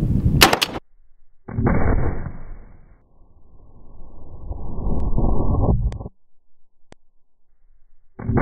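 A .50 caliber rifle shot fired into a block of dry ice: one sharp, loud blast followed by a long rumbling, hissing aftermath, then a second burst of noise near the end.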